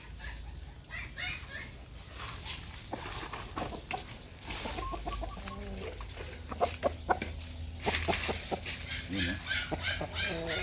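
Chickens cluck in short, scattered bursts near by, with a person talking over much of it and a low steady background hum.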